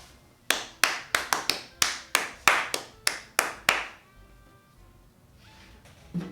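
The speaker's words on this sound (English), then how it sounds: "I thought she clapped to turn on the lights." Hands clap sharply about eleven times in a quick, uneven run, loud and close in a quiet room, followed by near silence.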